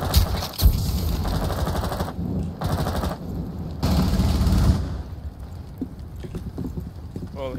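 Gunshots in a video game, rapid bursts of clattering shots in the first half that fade to scattered lighter hits later, close and fairly loud, with players talking over it.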